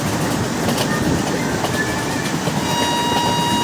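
A loud, continuous rumble of a video-game train with ICF coaches rolling along the tracks in an Indian train simulator, with faint rhythmic clatter and a thin high whine toward the end.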